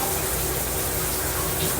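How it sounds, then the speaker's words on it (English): Shower water runs in a steady, loud, continuous hiss with no pauses or other sounds over it. "I'm about to get in the shower"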